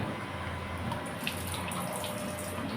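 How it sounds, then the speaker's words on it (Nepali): Water running from a kitchen tap for washing dishes in a home kitchen, a faint steady splashing flow with small drips, continuous and quiet. "अनि भाँडा धुने हाम्रो पानीको धारा यहाँनिर रहेको छ"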